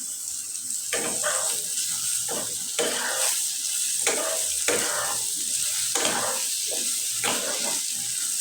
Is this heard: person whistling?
no